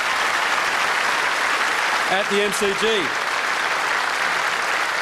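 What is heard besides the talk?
crowd applause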